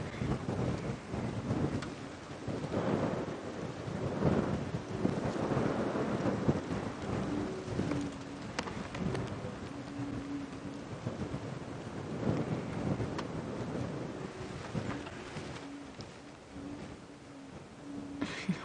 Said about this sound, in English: Wind gusting around it.